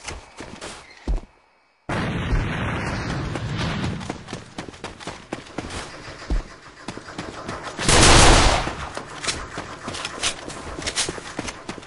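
Grenade blast in the online shooter A.V.A, a loud broadband burst amid ongoing gunfire and footsteps, following a brief silence near the start.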